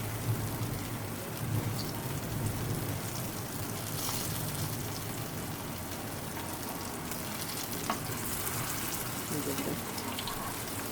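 Bottle gourd kababs frying in oil in a pan, a continuous sizzling crackle heard up close throughout, with faint occasional clinks and light speech in the background.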